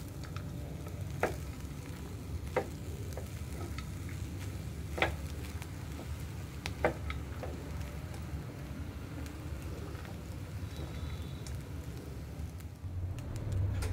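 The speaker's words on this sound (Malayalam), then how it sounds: "മല്ലിയിലയും കൂടെ ഇട്ട് ഒരു ഒരു ഒരു മിനിറ്റ് ഒന്ന് മിക്സ് ചെയ്യാം" Coriander leaves being stirred and sautéed into gooseberry rice in a pan, giving a soft steady sizzle with a few sharp spoon scrapes and clicks, fairly faint and close, no talking.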